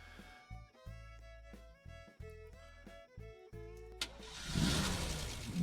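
Vehicle driving in the Roblox video game, its synthetic engine note stepping up and down in short revving bursts before a louder rushing noise takes over near the end.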